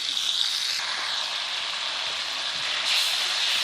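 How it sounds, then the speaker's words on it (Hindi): Ingredients for mutton karahi sizzle lightly in a pan, a steady, soft hiss of frying that swells slightly near the end. "इसको हल्का सा भुनेंगे ताकि इसका जो स्मेल है वो मार जाए"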